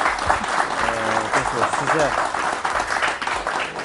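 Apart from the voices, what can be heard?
audience applause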